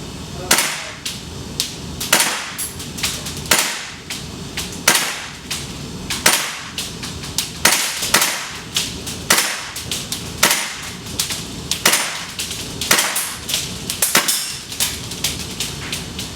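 A WE Tech SCAR H gas blowback airsoft rifle fires in semi-auto, each sharp crack coming as a single shot at a steady, fairly quick pace, loud and close throughout.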